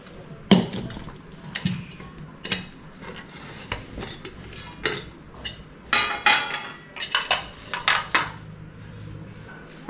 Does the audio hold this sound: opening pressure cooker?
yes